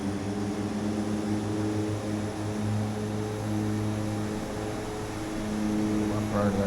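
De Havilland DHC-6 Twin Otter twin propeller engines at takeoff power in the FSX flight simulator, a loud, steady droning hum with a constant low tone, close and continuous, with a voice briefly audible near the end.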